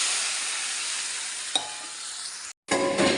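Water hits vermicelli frying in ghee for sweet sevige, setting off a loud, close sizzle that rushes on with a sharp crackle midway, a brief dropout, then a fresh burst of hissing.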